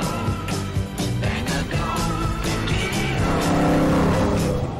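A 1955 Mercedes-Benz 300 SL with a 3-litre fuel-injected straight-six runs hard, its loud, continuous engine note revving and climbing near the end with no pause.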